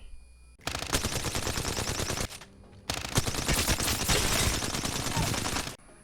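Alternator SMG fire in Apex Legends: two long, loud bursts of rapid automatic gunfire separated by a brief pause, each a dense, unbroken rattle of shots.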